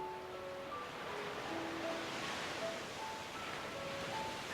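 Ocean waves wash steadily as a soft, continuous surf hiss with no distinct breaks, while faint sustained tones float quietly above.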